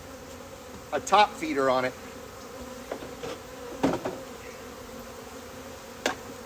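Honeybees hum in a steady, low drone during a hive inspection, with occasional close buzzes as someone speaks briefly over them.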